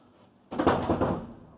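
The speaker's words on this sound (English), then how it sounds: "let's close this door" A door in Bradford City Hall swings shut with a sudden close thud and rattle, ringing on for under a second in a quiet, large room.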